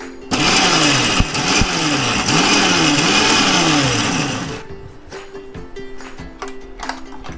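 An electric mixer grinder whirring loudly as it grinds dried red chillies into Chettinad chutney, its motor pitch wobbling in rhythmic surges for several seconds before switching off, leaving quieter clinks and handling noises.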